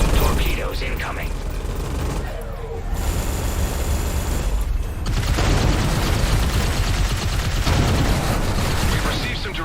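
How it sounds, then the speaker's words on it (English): Heavy weapons fire and torpedo impacts pound a base in the space combat game Everspace 2, a dense, loud barrage of booms and crackling blasts that swells and continues throughout, with voices talking over the battle. "Torpedoes incoming."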